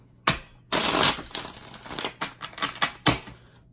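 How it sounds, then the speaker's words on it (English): Tarot cards shuffled by hand in a handful of separate bursts, each a crisp riffling flutter, close and fairly loud with brief pauses between shuffles. "let's go ahead and get 5 shuffles for the 5 of Cups"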